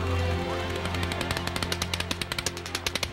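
Gunfire at an outdoor music festival on the Las Vegas Strip during a mass shooting, heard as a rapid run of sharp, evenly spaced cracks that grows steadier and louder over a dense, ringing wash of background noise.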